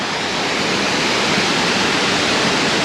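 A small waterfall near Nojeokbong in Ansan pours in a steady, dense rush of falling water, loud and close, with no voices over it.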